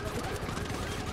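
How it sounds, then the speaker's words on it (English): Dense, continuous gunfire fills a short stretch of GTA V FiveM roleplay combat, with rapid overlapping shots and no clear gaps between them. "Be advised, we're taking shots currently"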